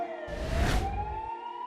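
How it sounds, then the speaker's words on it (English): A police siren in an animated story wails steadily with a rising pitch, joined midway by a brief louder burst of broadband noise. "Later that night, hearing the police sirens, Annalise rushed downstairs."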